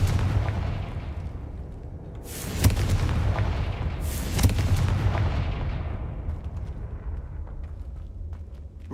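Confringo fire spell explosions in the Hogwarts Legacy video game, two loud booming blasts a couple of seconds apart over a rumbling low background, each trailing off into fading crackle.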